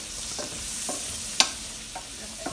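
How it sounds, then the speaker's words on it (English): Mushrooms sautéing in butter in a pan for chicken marsala, a soft continuous sizzle broken by a few spatula scrapes and one sharp clink near the middle. "now we're going to saute our mushrooms in this"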